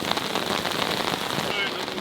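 Steady rain falls outdoors on a city street, a dense continuous hiss of drops on hard surfaces, loud and close, with no speech.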